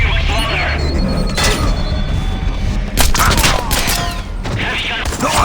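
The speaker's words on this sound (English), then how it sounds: "Heavy gun!" A heavy gun fires during a Splinter Cell Blacklist firefight, with loud booming bursts and rattling shots over dense battle noise and shouted voices.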